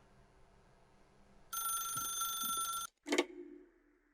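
A telephone rings in The Stanley Parable video game: a loud, steady electronic bell tone lasting more than a second, then a brief sharp click or pickup sound, with quiet background ambience before and after.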